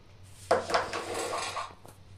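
Chickpeas being washed in a pot at home for chana masala: soft rattling, clinking and swishing of the chickpeas and water against the pot, quiet and close, lasting a couple of seconds.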